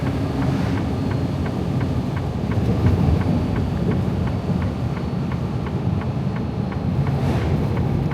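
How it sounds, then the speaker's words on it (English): Wind roars steadily through an open window of a moving truck, a loud, continuous low rumble with buffeting and road noise throughout, no voices. "I got my window down in case you're hearing a lot of wind."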